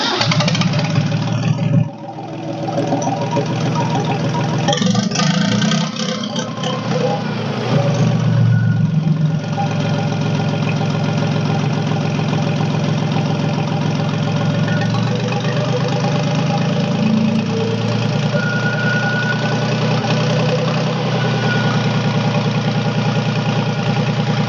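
A Tractor King 254 tractor with a possible injector fault, its emissions control device removed, turns over and fires up. It then settles into a loud, steady diesel idle with a slight knocking rumble, heard up close.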